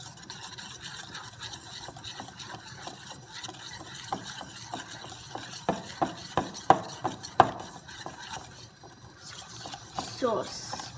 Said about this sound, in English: Now I get the parmesan and I put it with the eggs, the 4 eggs, and I start mixing